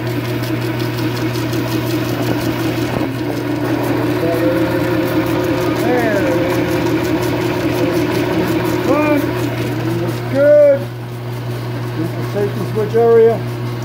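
A Velvet Drive marine transmission with a brand new pump runs on a test stand, giving a steady mechanical hum with a low, even drone and faint whirring overtones throughout, with a few brief squeaky chirps later on.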